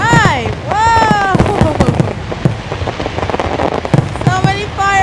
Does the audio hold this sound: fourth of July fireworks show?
yes